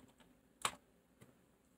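A few faint, sparse keystrokes on a computer keyboard while a command is entered, one sharper click followed by a softer tap in quiet surroundings.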